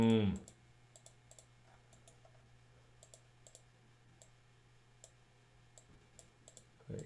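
Sharp, faint mouse clicks come at irregular intervals while a 2D drawing is made in Rhinoceros 6 on a computer, over a low steady hum.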